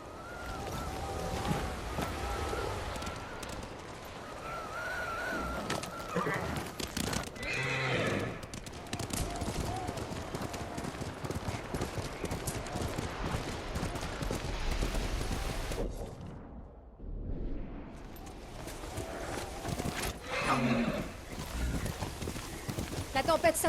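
A horse neighs and gallops in the video game Ghost of Tsushima during a storm, whinnies and hoofbeats over blowing wind and rain, with French speech in the mix and a brief drop-out near the end.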